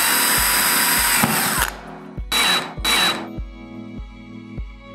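A power screwdriver drives 3.9 x 9.5 mm self-tapping screws into a sliding door profile, giving several whirring bursts of varying length, close and loud, with clicks between runs.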